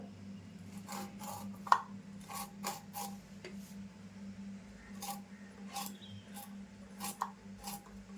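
Knife cutting ridge gourd at home, a series of soft, fairly close chopping taps and scrapes against a steady low hum, irregular in rhythm, with no talk.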